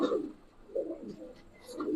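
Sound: giribaz pigeons cooing

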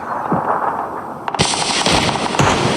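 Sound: gunfire in the video game PUBG: Battlegrounds

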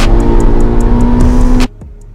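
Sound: Mazda Miata turbo car engine

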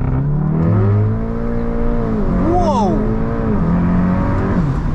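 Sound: 400hp VW Golf R launch control acceleration

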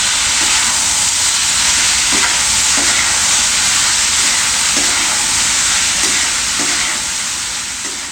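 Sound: stirring cooked rice into sizzling tempering in a pan

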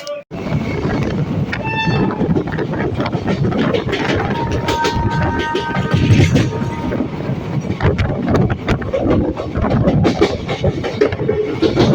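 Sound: Hazarduari Express train running into Ranaghat Junction

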